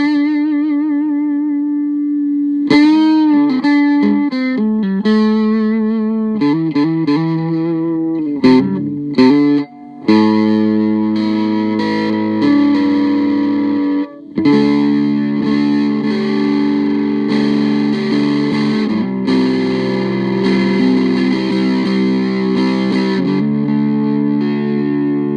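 Electric guitar through a Retro-electric Teddy fuzz pedal at its lowest distortion setting, played alone with loud, sustained fuzzy chords and single notes, some choppy stops early on, then steady ringing strums.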